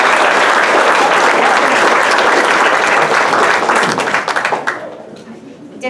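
Loud audience applause at a high school senior sports banquet, dense clapping from a crowd that holds steady for about four seconds, then tapers into scattered claps and a few voices.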